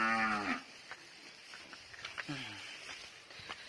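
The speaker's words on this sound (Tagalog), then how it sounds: "Ayun po yung mga kambing ko." Goats on a rural Marinduque farm bleat nearby, two drawn-out calls a couple of seconds apart over quiet outdoor background with small scattered knocks.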